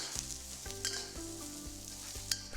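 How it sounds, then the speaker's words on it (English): Garlic, spring onion whites and carrots fry in an oiled pan, a steady close sizzle broken every half second or so by scraping stirs and tosses of the spatula. "Fry them till it's fragrant"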